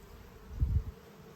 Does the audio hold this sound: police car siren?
no